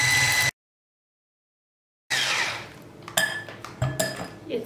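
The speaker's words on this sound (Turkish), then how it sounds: "1-2 dakika şöyle açık bir sarı olana kadar çırpıyorum" Eggs and sugar are whisked in a bowl, heard as quick metallic clinks and scraping taps close by, starting after a brief silent gap.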